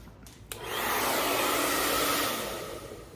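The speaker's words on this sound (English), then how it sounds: "Here's my good old hairdryer." A hair dryer switches on with a click and blows with a steady, loud broadband whoosh, close by, then eases slightly toward the end.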